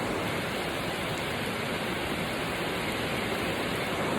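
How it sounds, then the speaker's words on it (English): Heavy rain drumming on a barn roof, a dense, even hiss that holds steady and loud throughout, with no voices. "that's the rain hitting the roof in this barn"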